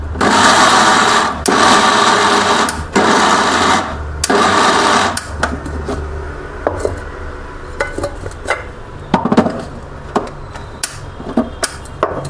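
An electric mixer grinder whirs loudly in several short bursts while chopping dry fruits and flaxseed for laddu, then gives way to scattered clinks, taps and knocks of the jar and utensils.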